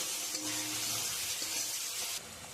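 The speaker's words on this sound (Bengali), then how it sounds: "আমি এবার খুব সুন্দর করে কষিয়ে নেব।" Ground spice masala of turmeric, chili and salt sizzles in hot oil in a pan for a fish curry with onions, a steady close hiss with faint stirring that drops slightly in level near the end.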